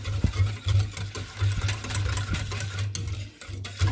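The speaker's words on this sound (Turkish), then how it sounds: "Şöyle sadece bir karıştırayım." A spoon stirs a sugar-free cake batter mixture in a bowl, giving a low, rhythmic churning with repeated swishes and a few sharper clinks against the side, close by and fairly soft.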